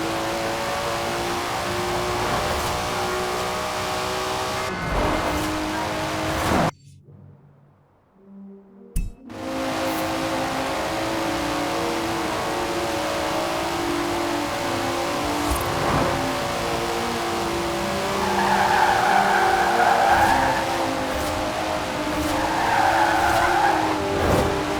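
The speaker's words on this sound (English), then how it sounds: "Never heard a Datsun sound like that" Datsun car in Forza Horizon 4 revs and accelerates hard with tire squeals and skids, a brief cut to near silence midway, then sustained engine roar returning loud.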